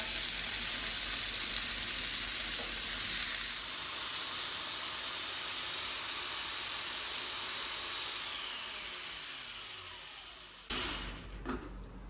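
Cubed meat for tacos al carbon sizzles steadily in a hot pan, a continuous broad frying hiss that holds loud, eases a little toward the end, then gives way to a few knocks.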